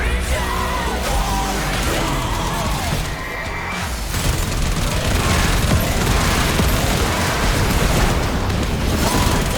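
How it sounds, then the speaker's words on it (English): Gunfire from the video game Warframe aimed at drones, dense bursts of booming shots and blasts forming a continuous loud barrage, with a brief lull midway. "You can shoot the Protea drones here"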